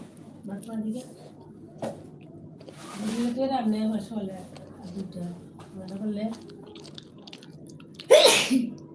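A single sharp, loud sneeze bursts out near the end after quiet talking and rustling indoors.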